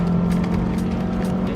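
A 1989 Honda CRX 1.6i-16 engine drones loudly from inside the car under acceleration through the gears, a steady humming buzz with road noise and no talk.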